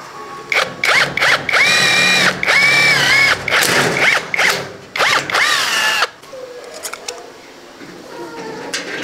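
A power drill fitted with a hex-shank bit, used while installing a door, gives loud, repeated whining bursts of a second or so with brief gaps, then fades to quieter clicks and handling noise near the end.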